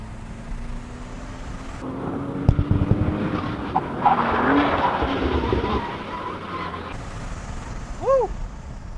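Manual Toyota GR Supra accelerating hard on a race track, the turbocharged engine rising in a strained drone with gear-related shifts in pitch, loud and close throughout, then a brief rising whine near the end.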